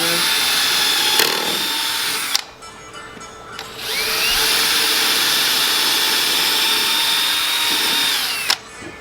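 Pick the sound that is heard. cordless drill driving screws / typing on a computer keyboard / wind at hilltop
cordless drill driving screws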